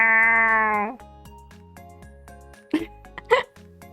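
A person imitating a cat, with a long drawn-out nasal meow followed by two short, sharp yowls over a faint steady musical backdrop.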